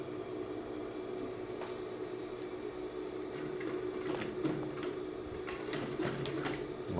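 Sewing machine stitching fabric, a steady close mechanical whir with a constant hum and quick rattling stitch ticks that grow busier toward the end, heard alone without talk.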